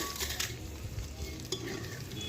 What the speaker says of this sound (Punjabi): ਹੁਣ ਲਸਣ ਨੂੰ ਅਸੀਂ ਭੁੰਨ ਲਵਾਂਗੇ ਜੀ